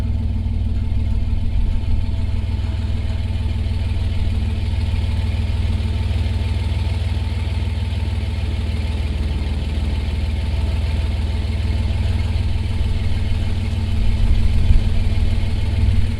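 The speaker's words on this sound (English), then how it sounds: "exhaust note here at the back." The engine of a 1988 Toyota Land Cruiser FJ62 idles steadily with a deep, rumbling exhaust drone, close and unchanging throughout, with a slight surge near the end.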